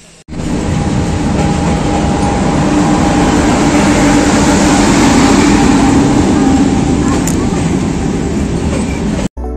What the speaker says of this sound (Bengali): চলো তাহলে ট্রেনে উঠে দেখা হচ্ছে।